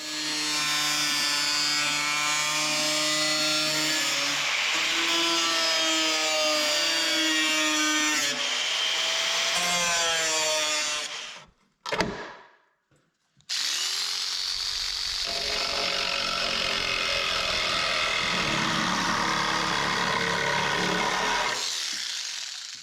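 Power cutting tool slicing into the sheet-metal body of an FJ Cruiser at the tail light opening, a loud steady whine with rising and falling pitch, a brief pause, then a second long cut.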